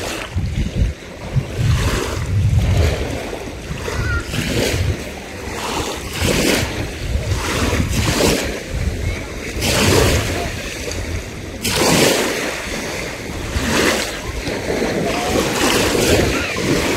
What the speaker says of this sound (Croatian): Valovi, valovi.